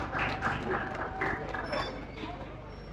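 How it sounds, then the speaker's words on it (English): An audience at a university department lecture day applauds its honourees, many hands clapping together in a dense, steady patter with crowd noise and some voices mixed in. "Please a round of applause for them once again."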